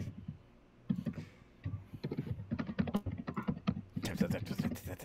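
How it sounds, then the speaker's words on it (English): Typing on a computer keyboard, a quick irregular run of close key clicks and taps that grows busier and continues to the end. "I'm typing up the next War and Peace."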